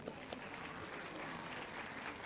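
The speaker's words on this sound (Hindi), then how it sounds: "उनके लिए जोरदार तालियां।" Audience applause at a cancer survivorship day celebration honors the choreographers and their team, a steady dense wash of many hands clapping at moderate distance throughout.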